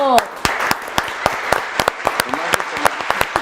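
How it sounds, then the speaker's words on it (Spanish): A few people clap in a live comedic news show studio, with loud, evenly spaced claps close by and voices underneath at the start. "un aplauso a ese libro"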